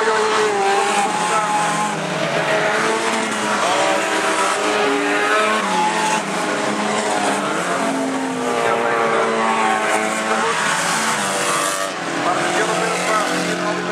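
Race cars at a St. Maarten rodeo race meeting roar continuously around the track, engines revving and whining in overlapping layers, with a commentator talking excitedly over the steady loud racket.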